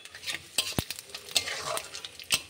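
Whole spices sputter in hot oil in a pan: dried chilli, cumin, clove, cardamom and bay leaf. Sharp crackling pops and spatters come close up over a low background sizzle, with a few stirring scrapes and no talking.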